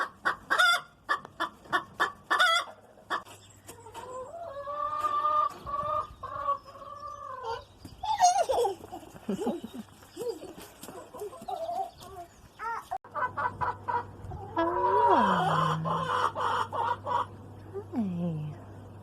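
Pet hens in a garden clucking loudly and close, with a burst of sharp rhythmic clucks, then drawn-out squawking calls and more cackling and chattering from several birds over a low steady hum.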